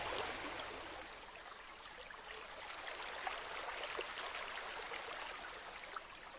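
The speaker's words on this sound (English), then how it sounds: "The sound of the water mixed with the sound of the wind, creating a fierce harmony of wild nature." Rushing waterfall water in wild terrain, a steady, broad hiss of falling and churning water that holds evenly and fairly quiet throughout, with no voices.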